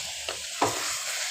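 Chicken masala with drumsticks (suhanjna) sizzles in a pan, with two quick stirring scrapes rising above the constant frying hiss.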